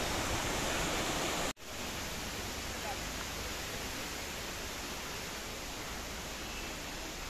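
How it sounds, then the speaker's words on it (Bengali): A small waterfall flows in a botanical garden, with a steady broad rush of falling water and one brief dropout before the constant wash resumes. "এই যে দেখুন ঝর্ণা বয়ে যাচ্ছে।"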